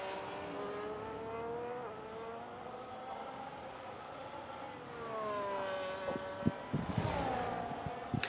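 Engine scream of an F1 race car on the 4.4 km Brazil GP circuit in a racing game, pitch climbing through gear changes and then falling under heavy braking, with a second car's whine and bumps near the end.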